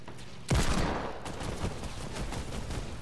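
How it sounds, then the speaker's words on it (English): Deagle pistol gunshots in the video game Fortnite crack out in a sharp burst followed by several rapid, close shots over a noisy game background. "I hit him again with my Deagle"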